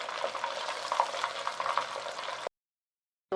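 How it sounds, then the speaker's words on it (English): Beef for a sweet-and-sour Mongolian crispy dish sizzles and bubbles steadily in hot oil, with a continuous crackling fry for a couple of seconds before it cuts out to near silence and briefly returns. "I'm just going to take the last batch out of the oil"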